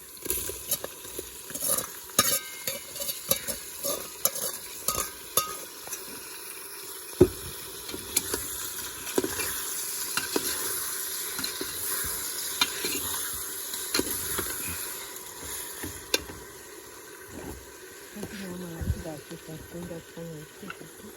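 Onions sautéing in a pan for quick chicken rice, with steady stirring and a soft sizzle under intermittent talk, spoon scrapes and clicks scattered throughout.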